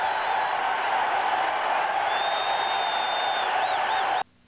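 A World Series crowd in a TV broadcast roars in a sustained, steady wash of cheering and noise, loud and continuous until it cuts off abruptly near the end.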